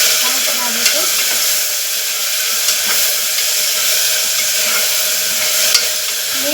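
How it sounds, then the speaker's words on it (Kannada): Rice frying in oil with tomato gives a loud, continuous close sizzle and hiss, with occasional faint clicks of a stirring spoon. "ಈಗ ಸ್ವಲ್ಪ ಎಣ್ಣೆ ಒಳಗೆ ಚೆನ್ನಾಗಿ ಫ್ರೈ ಆಗುತ್ತೆ"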